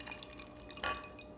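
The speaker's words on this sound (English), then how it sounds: "This is ice cold water, so we're gonna put 6 tablespoons." Ice cold water is spooned by the tablespoon into a steamed pork roll mixture, giving a brief close splash and trickle with faint clinks over a quiet kitchen background, no talking.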